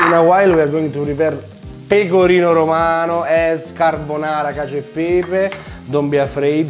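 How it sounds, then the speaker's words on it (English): Guanciale fries in a hot pan for pasta amatriciana, a constant crackling sizzle running beneath a man's continuous speech. "So it's frying outside."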